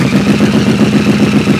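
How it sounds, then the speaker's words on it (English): Harley-Davidson Nightster motorcycle being switched on, a close, loud, steady low mechanical hum with a fine rapid pulsing throughout, no talk. "If we turn the bike on, you'll see all your gauges come on, fuel pump starts up."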